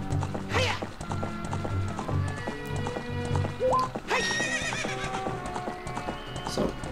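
A horse in the Zelda: Ocarina of Time video game gallops with steady clip-clop hoofbeats and lets out loud whinnies, set against layered game music.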